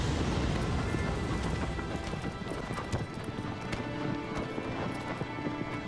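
Horse hooves gallop in a video game, a fast steady clatter of hoofbeats that runs throughout, fairly loud over a dense background of game sound.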